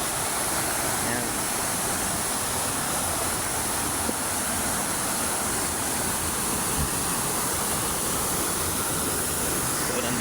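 Tinago Falls, a strong waterfall, roars as a steady broadband rush of powerful falling water, loud and unbroken across the whole stretch with no other sounds standing out.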